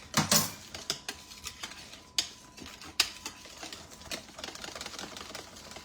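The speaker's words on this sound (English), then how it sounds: "I think now it's time for my whisk." A whisk beating in a bowl while making a refreshing summer dish, irregular clicking and tapping strokes against the bowl, close and fairly crisp.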